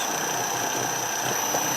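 An engine driving an asynchronous generator at 1900 rpm, a steady close hum with a high constant whine, unbroken throughout and with no voices.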